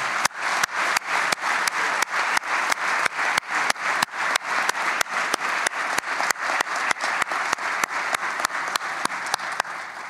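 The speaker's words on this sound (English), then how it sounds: "let's just take 1 minute and have a round of applause for all 10 of this year's winners" An audience at an industrial plant awards ceremony claps for this year's ten winners, a steady wash of applause broken by regular sharp dropouts, as though the sound repeatedly cuts and resumes in a looping pattern.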